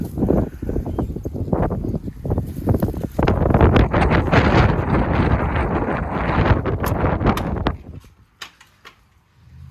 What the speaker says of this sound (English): All right, too windy out there.